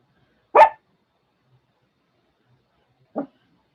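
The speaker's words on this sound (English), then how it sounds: "She's still barking. She's not okay with that." A kit fox lets out two short, sharp barks close by, the first loud and the second softer, separated by a few seconds of silence.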